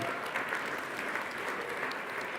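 An audience at a winter evening mountaineering talk applauds its sponsors, steady dense clapping filling the room evenly from start to finish without a voice over it.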